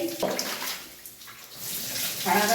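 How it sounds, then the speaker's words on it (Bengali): Hot water splashing from a mug over a body at bath time, a loud watery gush that fades, then a second pour starts, close by with no voices. "এই গরম জল দিয়েছি আগেও 2-3 মগ"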